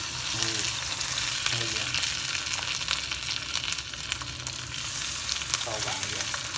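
Tandoori chicken shashlik sizzles and fries steadily on a griddle, a dense, continuous crackle close to the listener, with brief stirring movements and a short spoken remark over it.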